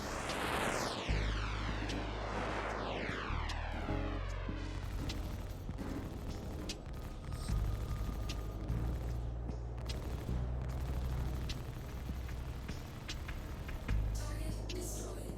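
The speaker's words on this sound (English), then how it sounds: "Let's move on to a pair of Galdereen size 5 laser repeaters with the Mirai Guardian." Paired Galdereen size 5 laser repeaters fire in Star Citizen, mounted on a Mirai Guardian ship, rapid bursts of sharp zapping shots over a loud engine drone with sweeping whooshes, continuous and close.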